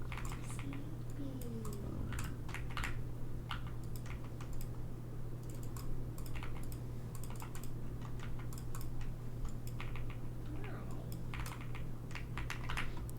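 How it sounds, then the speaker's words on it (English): A mechanical keyboard clatters in quick, irregular runs of crisp key clicks during a livestream chat, close and fairly clear over a steady low hum, with no speech. "You like the mechanical keyboard sound?"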